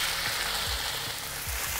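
Beef hits a smoking-hot oiled wok over high heat, giving a dense, continuous close-up sizzle with a few soft low thumps underneath and no talking.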